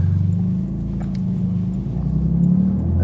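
Porsche 911 GT2 RS turbocharged engine pulling under boost, a loud, steady low rumble heard from inside the car, swelling slightly toward the end.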